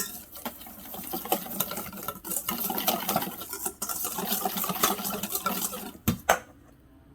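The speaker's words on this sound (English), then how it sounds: "we're just going to give this a good mix" Pork chop marinade with oil being stirred and mixed in a bowl, a steady wet clatter of utensil against dish with scraping and sloshing, close and moderately loud, ending with a couple of sharper knocks.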